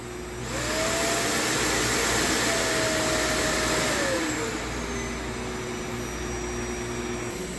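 A Shark PowerDetect upright vacuum cleaner spins up and runs with a loud, steady motor whine and airflow roar, its pitch shifting slightly as it settles.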